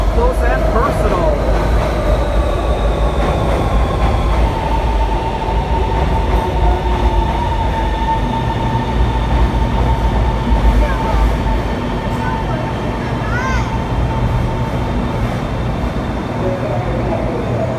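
A Shanghai Metro train sits loudly at the Disney Resort station platform, its steady low rumble and motor whine filling the air, with a thin squeal and a voice speaking briefly.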